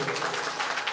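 Brief burst of audience applause at a devotional kirtan gathering, dense steady clapping filling the whole moment with no pause.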